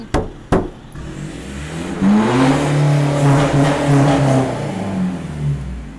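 A couple of sharp knocks, then the 1.9-litre diesel engine of a 2020 Isuzu D-Max Spacecab pickup revving up and holding a rumbling, rising note before easing off, close and loud.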